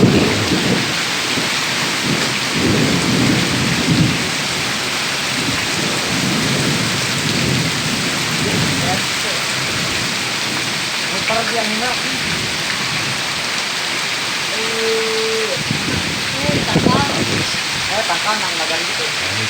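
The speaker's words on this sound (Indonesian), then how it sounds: "Di sini kita lagi hujan begini guys." Heavy tropical downpour with strong gusting wind, a dense steady roar of rain on surfaces broken by deep rolling thunder rumbles and occasional faint voices.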